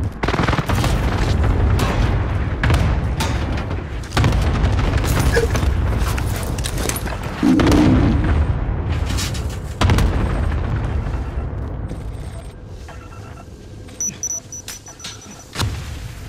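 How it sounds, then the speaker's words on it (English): Cluster strike explosions in Call of Duty: Modern Warfare pound nearby as a series of loud booms and rumbling blasts, each a few seconds apart, fading into quieter scattered impacts toward the end. "Enemy cluster strike."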